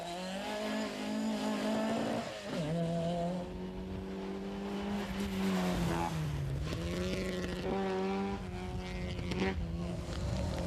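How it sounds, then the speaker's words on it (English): Historic 1960s rally cars, including a Lotus Cortina, race on the Circuit of Ireland. Engines rise and fall as they rev through gears, loud and near, while a commentator talks over the noise. "The circuit attracted 34 of these exotic rally cars from the 60s and before"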